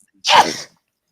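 One quick, forceful human sneeze, close to the listener and clear, with silence around it.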